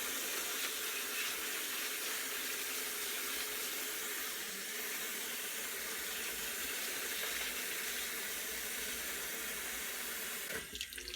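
Steady running tap water pours into a sink as dyed silk or rayon fabric is rinsed, a continuous close rushing wash that ends abruptly near the finish.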